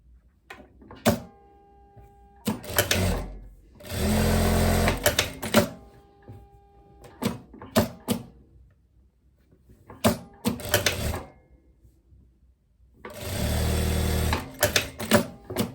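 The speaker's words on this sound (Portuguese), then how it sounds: "vamos passar uma costurinha de reta assim, em todas essas partes" A sewing machine runs a straight seam on viscose ruffles in short, loud whirring bursts of rapid stitching, separated by pauses full of clicks and handling noises.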